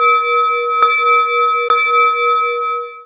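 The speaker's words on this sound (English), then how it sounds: "bells rang across the land" Two loud, resonant church bell strikes about a second apart, each followed by a long sustained ringing hum that lingers clearly throughout.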